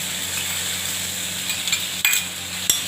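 Cumin paste frying in hot oil for a Bengali fish curry, a steady broadband sizzle with a couple of brief clinks from a utensil near the end.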